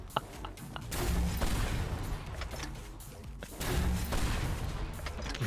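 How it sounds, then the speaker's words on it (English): Grenade launcher fire in the survival game Night of the Dead, heard as a pair of heavy booming blasts about two and a half seconds apart, each with a loud rumbling tail, with no talking. "I love the grenade launcher now."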